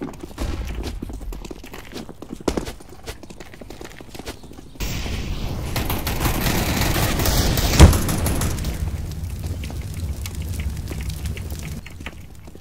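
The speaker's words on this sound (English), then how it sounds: "I am throwing a flashbang" A flashbang grenade going off in Counter-Strike on the Inferno map, a sudden loud burst followed by a long ringing, whooshing wash that holds for several seconds, with scattered game footsteps and clatter before it.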